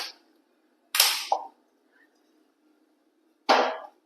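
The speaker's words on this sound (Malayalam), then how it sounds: "നമുക്ക് സ്റ്റവ് കത്തിച്ച് കൊടുക്കാം." A gas stove is lit in a home kitchen: three sharp, close ignition clicks with brief bursts of hiss, spaced apart and separated by near silence.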